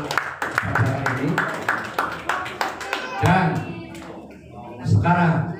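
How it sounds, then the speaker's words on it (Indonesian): Wedding guests clap for the bride and groom, a scattered run of claps in the first few seconds with a host talking over them and continuing afterward. "Berikan tepuk tangan untuk pasangan ini."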